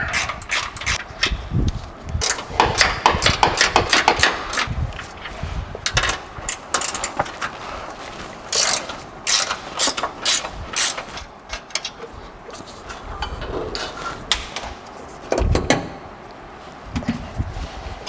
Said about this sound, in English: now on the back, we're gonna take that 15mm ratchet wrench